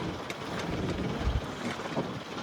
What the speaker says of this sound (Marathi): वारा पण खूपच आहे.